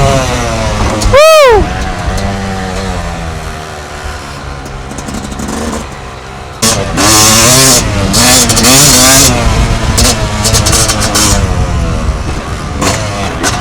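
A Yamaha YZ250 two-stroke dirt bike revs hard over jumps at a motocross track, with a loud sweeping pass near the start, then repeated high-pitched throttle bursts and revs that rise and fall close by.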